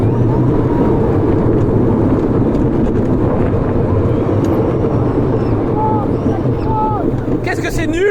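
An amusement park ride at Plopsaland rumbles loudly and continuously like a metro train, a heavy low roar with brief squealing tones near the end and voices faintly mixed in.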